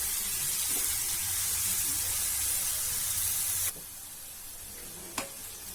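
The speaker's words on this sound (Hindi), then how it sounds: "अभी ऑनियन हमारा फ्राई हो गया है" Chopped onion with salt sizzles steadily in a hot pan on a gas stove, a loud dense hiss that drops abruptly to a quieter simmer partway through, followed by a single sharp clink.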